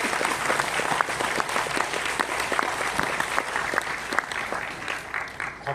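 A church audience breaks into sustained applause to welcome a pastor onto the stage for a lecture, a steady dense wash of many hands clapping that holds at an even, fairly loud level throughout.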